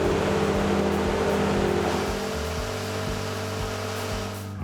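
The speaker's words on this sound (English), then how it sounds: "At the control panel, you can start and stop your cutter motors, your power feed, and your sawdust extraction system." Cutter motors of a Wood-Mizer MP360 moulder run in a steady, loud machine drone with a tonal hum that eases slightly partway through, and no one talks.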